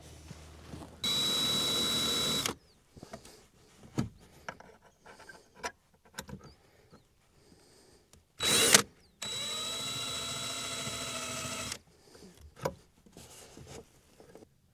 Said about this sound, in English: We'll pre-drill the holes and then lock it down after that